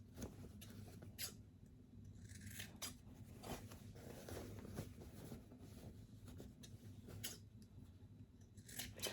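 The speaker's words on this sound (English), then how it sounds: "just going to cut it across but not cutting into the seam, and we're going to do that on all 4 corners" Scissors snip across the fabric corners of a sewn make-up bag, several quiet crisp cuts in short irregular bursts, close and faint against a soft background hum.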